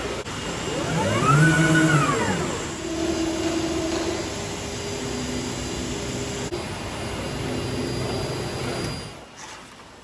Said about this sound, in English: This is one of their laser plotters for cutting the sail material, and it has a vacuum table to hold the cloth down.